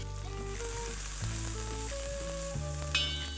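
Chili thecha and cumin seeds sizzle loudly in hot ghee, a dense continuous crackling fry close up with a brief spatter near the end, while tonal music plays underneath.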